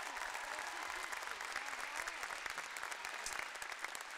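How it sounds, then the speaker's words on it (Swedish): An audience applauds a culture school dance ensemble at a festival, a dense, steady wash of clapping from many hands that holds without a break. "och de kan få en applåd också."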